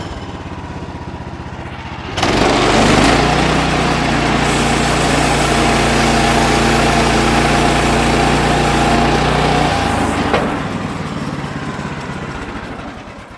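Sawmill blade cutting a timber frame tenon, a heavy cut just under five inches: a loud, steady engine-driven roar starts after a quiet opening, holds for about eight seconds, then drops back to a lower running hum.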